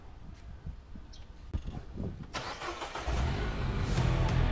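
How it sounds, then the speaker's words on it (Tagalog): A Mini Cooper engine cranks after a few clicks and catches, settling into a steady close running drone that grows louder and fuller toward the end. "Subukan natin i-start. The moment of truth."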